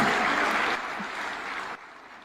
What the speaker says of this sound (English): Another round for applause to Irungu Kangata.